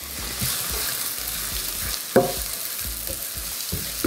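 Garlic and onion sautéing in a pan for monggo, a steady crackling sizzle with regular scraping strokes of a spatula and one sharper clack midway, close and unaccompanied by speech.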